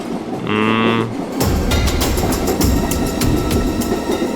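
Inside a moving train, a steady rumble with rhythmic clattering of the wheels continues throughout, loud and close, after a brief tonal sound at the start.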